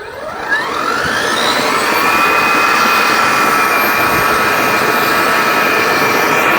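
A battery-powered garden tiller spins up with a rising whine, then runs at a loud, steady high-pitched drone.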